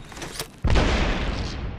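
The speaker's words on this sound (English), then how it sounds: "Incoming grenade! Arcstar!" An Arc Star grenade goes off in Apex Legends Arena, a sudden loud crackling burst of electric energy after a quieter lead-in, sustained and dense for over a second.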